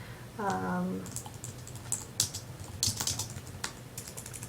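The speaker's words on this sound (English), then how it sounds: "then I would type in chromosomes and then a description" Typing on a computer keyboard, a run of quick light key clicks and taps in irregular bursts, close and moderately soft, with a short hum of voice near the start.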